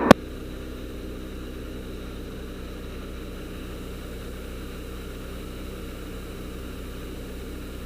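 A Cessna aircraft engine runs at takeoff, a steady droning hum with a continuous low rumble and faint higher tones, heard from inside the cabin, after one sharp click at the start and with no voices.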